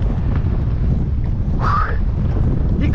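Strong wind roars at a beach with waves breaking nearby. The blustery rush is constant and close, buffeting the microphone, with a faint brief tonal sound in the middle.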